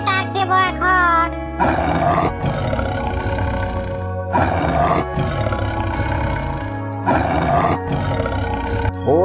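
A person imitates a tiger with three long, loud, growling roars separated by short pauses, preceded by a brief voice.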